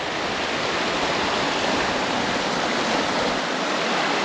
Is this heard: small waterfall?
yes